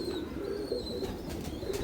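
Soft, steady cooing from a racing pigeon in a loft, low and continuous with a faint chirp or two over the top, at moderate distance and without speech.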